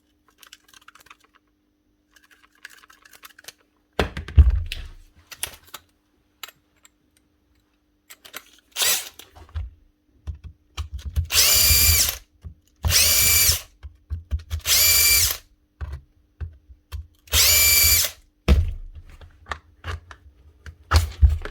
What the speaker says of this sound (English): First off, dig out the screws.